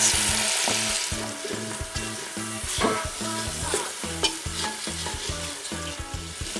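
Chopped onions fry in rendered pork fat in a cast iron pot, a steady loud sizzle running throughout with repeated close scraping stirs of a utensil against the pot, no voices.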